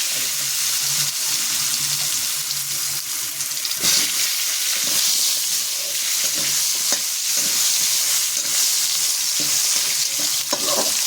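Large chunks of potato sizzle in hot oil in a pan with bay leaf and cumin, with a steady loud crackle and occasional stirring scrapes, and no talking.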